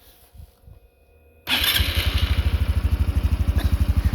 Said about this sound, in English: The starter is louder than the engine, and it runs buttery smooth, just like a small Honda generator.